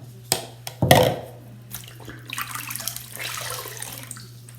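Tap water runs and splashes as hands wet a face for washing, with a brief splash burst near the start, then a softer, steady trickle that fades in and out, close by and unaccompanied by talk.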